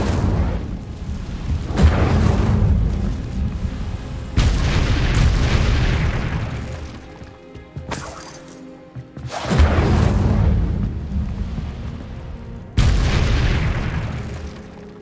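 Incendio fire spells cast in the Hogwarts Legacy video game burst out as a series of loud, booming whooshes, each a sharp onset that fades over about two seconds, with brief quiet gaps between, and no speech.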